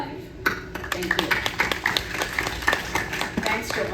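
Audience applause at a talk for a dance community, a scattered crowd clapping with sharp, uneven hand claps across a few seconds, fairly close and steady without tapering.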